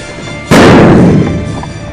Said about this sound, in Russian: Пошла граната!